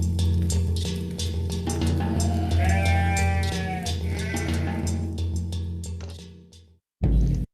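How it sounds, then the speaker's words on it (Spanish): Sheep bleating loudly and close, several voices overlapping in long wavering cries over a steady low background, ending abruptly. "Entonces Ulises se dirigió hacia donde estaban las ovejas y comenzó a atarlas"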